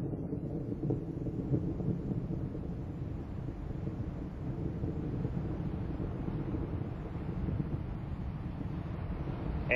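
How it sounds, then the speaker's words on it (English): The three main engines of Space Shuttle Endeavour roar during liftoff on mission STS-130, a steady, deep, crackling rumble like distant thunder that persists unbroken throughout. "Endeavour's engines are throttling down as the orbiter passes through the area of maximum pressure"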